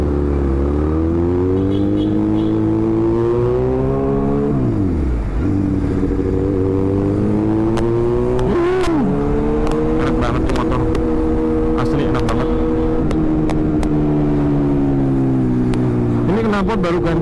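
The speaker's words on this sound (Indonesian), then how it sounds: "Knalpot baru ganti yang pendek, suaranya lebih gacor." A motorcycle fitted with a new short exhaust revs and idles up close, its loud throaty engine tone rising and falling through several throttle blips, with someone talking over it.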